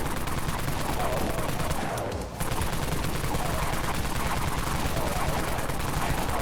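Rapid automatic gunfire from the Hair Trigger weapon in the video game Dead Frontier, a loud, continuous stream of shots with only a brief break partway through.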